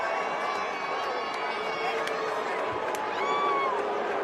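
A wrestling arena crowd boos Danhausen, a loud, sustained roar that fills the whole stretch. A few higher shouts rise out of the mass.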